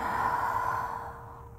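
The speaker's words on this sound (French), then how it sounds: "Une grande expiration par la bouche." A long, steady exhale through the mouth during a yoga sun salutation, breathy and close, fading gently toward the end with no talking.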